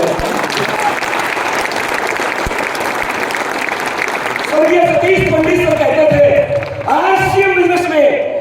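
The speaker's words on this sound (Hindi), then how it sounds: "एक बार चाहे तालियां जोरदार मांगे" Loud, dense applause fills a large hall at a success celebration for a business family, sustained throughout, with a voice and music-like tones rising over the clapping in the second half.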